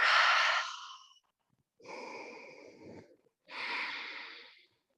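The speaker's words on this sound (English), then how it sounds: "Breathe deeply. Exhale out some tension." Three slow, deep breaths during a Hatha yoga standing balance session, each a long airy exhale with a short pause between, close and clear with no talking.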